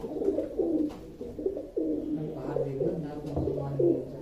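Several pigeons of the umbrella-loft (chatri) kind coo in a steady, overlapping rumble close by, with soft low calls repeating throughout under light background noise.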